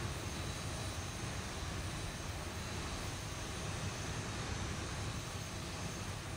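Steady broadband jet engine roar of an airliner on its takeoff run at runway 25R in the X-Plane 11 flight simulator, a constant loud rumble with no voices.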